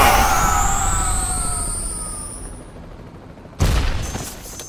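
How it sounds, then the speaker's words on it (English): Iron Man's proton cannon in Marvel vs. Capcom: Infinite starts with a bright, descending electronic whine that fades out, followed by a sudden loud blast with a rumbling, noisy tail. "Proton cannon."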